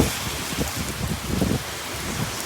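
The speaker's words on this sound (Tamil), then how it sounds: "அதே பாருங்கள் காற்று எப்படி அடிக்குது, மழை எப்படி வருது." A steady cyclone downpour with wind in Chennai roars evenly throughout, a thick wash of rain with a low rumble beneath it and no voices.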